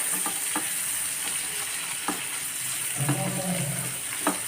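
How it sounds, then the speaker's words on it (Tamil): Salted ridge gourd sizzles and fries in a hot pan, with a continuous hiss broken by occasional scraping stirs and clinks of a utensil. "உப்பு போட்டு வதக்கினா சீக்கிரம் நல்லா வதங்கிடும்."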